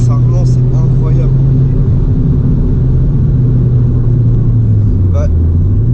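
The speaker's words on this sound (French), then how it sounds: "le bruit de ton admission est particulièrement kiffant" Inside a VW Polo WRC Stage 1 under hard acceleration, a deep, loud intake and engine drone rises steadily with a booming rumble, while occupants talk over it.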